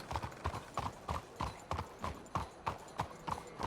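Horse hooves clip-clopping in an even trotting rhythm, about three beats a second, soft and somewhat distant, with no voices over them.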